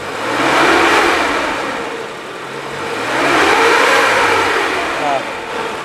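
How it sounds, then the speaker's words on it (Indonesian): A 2003 Suzuki Futura van engine is revved twice, each rise swelling and easing back toward idle, steady and fairly close with no clear talk over it. "kalau dari suara mesin kita geber ini suaranya dia masih oke"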